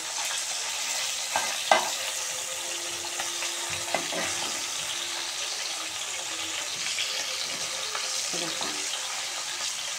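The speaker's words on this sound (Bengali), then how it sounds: "সব কটা লাল করে ভেজে নেবো" Fish sizzles steadily as it fries in oil in a wok, a continuous hiss with occasional clinks and scrapes of stirring, close and even throughout with no talking.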